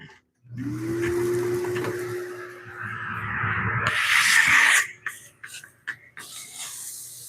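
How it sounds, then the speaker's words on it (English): A vacuum motor starts with a rising whine that holds steady, then a louder rushing suction hiss cleaning up woodturning sanding dust before it shuts off with a few clunks. "me get the vacuum here for a second, just to kind of clean some of this up."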